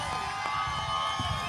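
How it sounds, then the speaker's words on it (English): A large outdoor crowd at a trans rights march cheers and whoops, a steady wash of distant voices and shouts with no pause. "I could get a rock star applause for blessing this stage."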